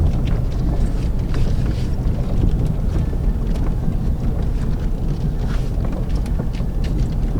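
A Chevy 1500 pickup with a 4.8 engine churns through mud, mud caked on its tires, giving a steady, loud low rumble with broadband wind-like noise throughout and no voices.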